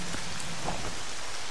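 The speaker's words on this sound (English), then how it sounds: "It's raining." Rain falls steadily in the video game Legend of Zelda Twilight Princess HD, a constant soft hiss of drops with no voices over it.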